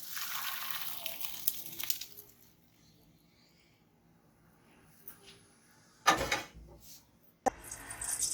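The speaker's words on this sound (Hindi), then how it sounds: "अब मैं इसका पानी निकालूंगी।" Cooking water pours off a pot of fully boiled rice for a sweet mutanjan-style dish, a steady watery rush for about two seconds, then near silence broken by a couple of short clattering knocks from the pot or lid.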